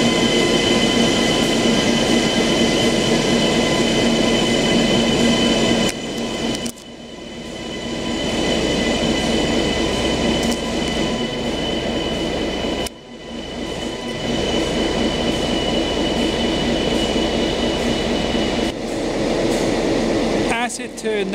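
A train pulls into a station near Newmarket, its wheels rumbling and rattling loudly in a steady, sustained roar, with several sudden cutoffs and a faint squeal near the end.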